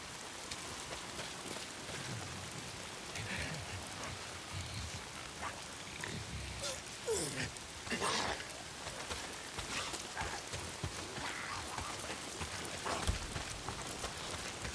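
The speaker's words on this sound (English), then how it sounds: "If it's not the freaks, it's the goddamn rain." Rain falling in the game Days Gone, a soft steady patter at moderate distance with a few scattered louder taps and thuds, no talking.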